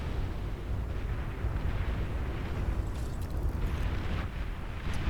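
A commander unit is destroyed in the strategy video game Beyond All Reason, giving a dense rumbling explosion with a continuous roar and scattered crackling bursts layered over battle noise, with no talking.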